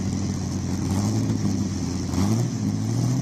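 A Ford GT40 race car on a hill climb run at the Speed Classic in Cape Town, its engine holding a loud, sustained low roar with a brief rise in pitch near the end, without speech.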